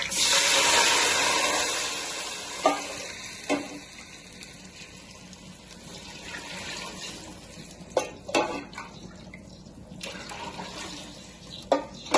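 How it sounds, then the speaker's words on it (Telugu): Water poured from a lota onto rice for coconut rice, a rushing splashing pour that starts strong then thins into a lighter trickle, broken by a few sharp knocks and clinks of the vessel, close and steady. "త్రీ రైస్ తీసుకున్నా కానీ ఈ లోటాతో ఇప్పుడు పోసుకుందాం"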